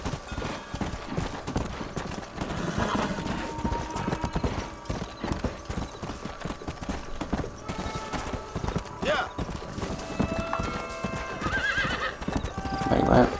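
Rapid hoofbeats of a galloping horse clatter steadily throughout in the video game Red Dead Redemption, with a couple of horse whinnies breaking through and voices talking underneath.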